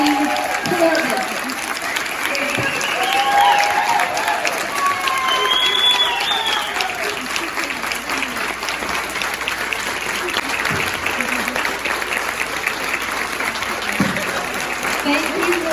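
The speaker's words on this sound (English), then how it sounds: "Give a round of applause. Nora freaking Corbett." A crowd at a stitching retreat applauds and cheers steadily for Nora Corbett after a Q&A, dense clapping sustained throughout, fairly loud and close, with a voice speaking over the applause at points.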